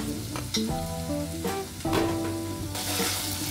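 Mutton masala frying until the oil separates, a steady close sizzle with bursts of crackle over a constant low hum, and no talking.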